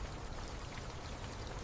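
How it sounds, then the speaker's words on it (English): Steady rain falling outdoors during a thunderstorm, a dense, continuous hiss of drops on the ground with no pauses, close and even throughout. "get this little guy out of the rain"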